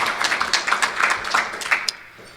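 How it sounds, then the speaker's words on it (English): Audience applause at a faith and employment law event, a dense burst of steady clapping from a crowd that fades out near the end. "give our team a real round of applause for all they've done"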